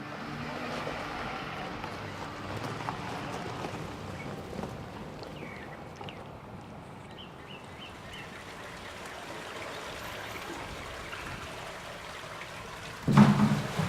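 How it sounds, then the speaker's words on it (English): Mine discharge water piped into an active treatment system pours steadily, a broad continuous rushing and splashing like a stream, fairly close and even throughout, with a brief louder knock at the very end. "you can see and hear that the water is being brought in by a piping system that comes from a mine discharge just up the road"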